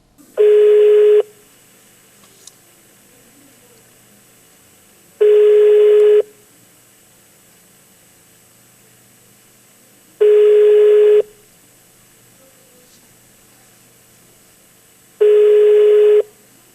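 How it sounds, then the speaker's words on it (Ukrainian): Telephone ringback tone on an unanswered call to an official's phone: four identical long beeps, each about a second, spaced evenly roughly five seconds apart, clear and alone with no voices. "на наш дзвінок його телефон вперто мовчав"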